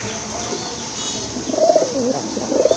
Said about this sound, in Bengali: মার্শাল্লাহ খুবই সুন্দর দুইটা কবুতর পেয়ে যাচ্ছেন আপনারা